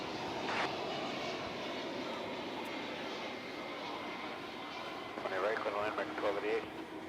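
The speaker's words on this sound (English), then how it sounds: "As you can see, that was a Cargolux 747 arriving as we sort out our issues." A Cargolux Boeing 747 cargo plane arriving at DFW Airport, a steady broad engine roar holding throughout with a slight swell near the end, under background voices.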